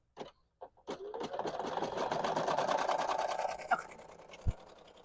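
A sewing machine stitching beanies runs in one steady, close burst of rapid mechanical whirring for about three seconds, preceded by a few short clicks as it starts and followed by a couple of knocks as it stops.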